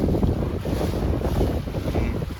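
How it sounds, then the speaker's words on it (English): Strong wind buffets the microphone in a steady roar aboard a C420 sailing dinghy during a regatta, with water rushing past the hull beneath it and no voices. "Okay, well, it's windy out here."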